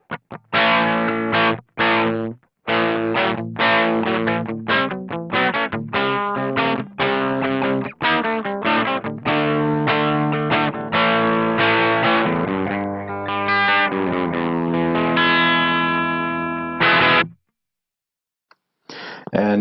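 Electric guitar played through a Hotone Mojo Attack cabinet simulator pedal with reverb off, a loud distorted tone picking out a run of chords and notes with sharp attacks, ringing to a sustained chord before cutting off abruptly.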